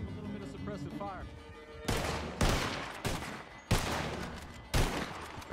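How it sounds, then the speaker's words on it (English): Bursts of gunfire from the Red Dead Redemption roleplay game, four loud separate blasts about a second apart, each ringing off briefly, with a voice talking before the shooting begins. "Give them a little bit of suppressive fire."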